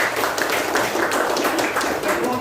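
A primary school class claps together, a dense and continuous patter of many small hands at close range, steady throughout.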